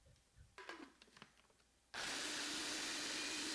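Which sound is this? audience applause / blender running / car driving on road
blender running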